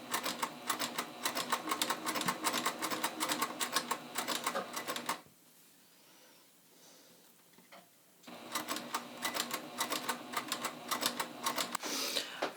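A sewing machine runs in steady bursts while stitching beaded lace with a mesh backing, loud and close, pausing for a few seconds of near silence midway before resuming.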